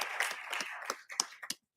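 Brief applause at a city council meeting: a scattered round of claps from a small audience that thins into a few separate claps and stops within two seconds.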